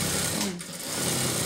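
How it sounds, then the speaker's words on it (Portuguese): A sewing machine stitches fabric in a short, steady mechanical rattle close by, briefly easing mid-run before resuming. "onde nós vamos começar a nossa costura"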